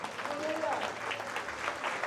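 A church congregation claps and cheers for the Lord during a worship service. The applause is steady and dense, with a voice speaking over it throughout.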